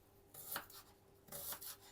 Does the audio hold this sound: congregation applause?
no